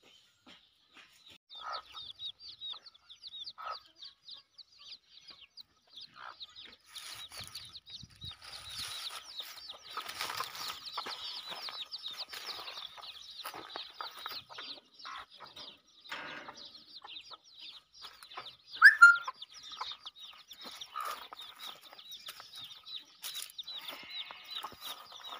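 Chickens clucking at a rural home, with a scatter of faint, short clucks and some wing flapping, plus one louder squawk near the end and light background activity.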